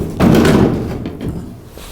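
A heavy car door, being refitted on an old rusty car, thuds shut with a solid slam, followed by a few softer knocks and rattles as it settles.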